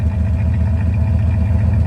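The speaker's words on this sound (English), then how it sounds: "gave it one more start just for the heck of it, and here she is idling." A 1971 Chevrolet Suburban engine idles steadily, a deep, even low rumble with a slight uneven pulse running throughout, close and loud with no talk over it.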